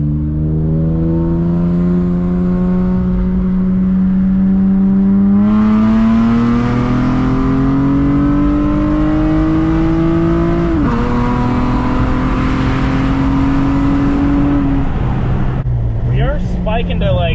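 An Acura TL Type-S pulls hard up an on-ramp, the engine droning loud and close as its pitch climbs steadily, dips at a gear change and climbs again, with talk inside the car over it.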